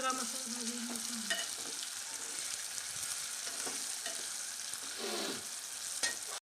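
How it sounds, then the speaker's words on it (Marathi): Spice masala and tomato roast in a pan with a steady sizzle and frying hiss, broken now and then by the scrape of a stirring spoon, and no talk. "टमाटर पण टाकायचं आहे। हा सगळा मसाला भाजून घ्यायचा।"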